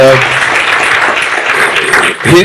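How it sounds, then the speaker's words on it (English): Applause from the audience at a public lecture: sustained clapping fills the whole stretch, loud and close, with a voice faintly audible at the start and end. "I think a round of applause for Prof"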